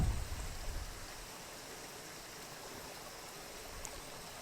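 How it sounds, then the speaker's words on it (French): River water flows in a faint, steady, soft rush that is slightly louder at the very start, with no voices. "L'eau de la rivière coule"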